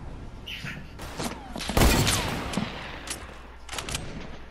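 Sniper rifle shot in a video game shootout, a loud sharp crack near the middle followed by a decaying tail, amid scattered lighter shots and impacts around it.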